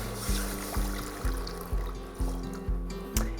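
Water pours into a pot for a poaching liquid for honey garlic glazed carrots. It sounds as a steady liquid rush, with a regular series of low thumps about every half second underneath.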